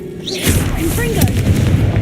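A Confringo spell bursts in Hogwarts Legacy with a booming explosion that starts sharply and rolls on in a heavy rumble, with a spoken voice briefly heard alongside.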